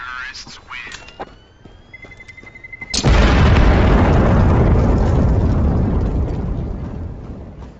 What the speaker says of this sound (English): It is going to explode. Terrorists win.